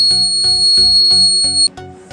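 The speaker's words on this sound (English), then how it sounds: "When it reaches onto the end of the stick, it gives an alarm." A steady high-pitched electronic water level alarm buzzer sounds continuously for well over a second, then cuts off abruptly, with some rhythmic background clatter underneath.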